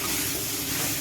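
Potol, potatoes and paneer sizzle in a hot spice masala in a pan, giving a steady, close hiss of frying that stays constant across the short moment.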